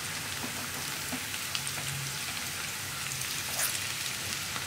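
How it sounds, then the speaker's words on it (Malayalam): Sliced onions sauté in oil with ginger and garlic, producing a faint, steady, rain-like sizzle with a few soft pops throughout. "നമ്മൾ മുറിച്ച് വെച്ചിരിക്കുന്ന സവാള ചേർക്കാണ്"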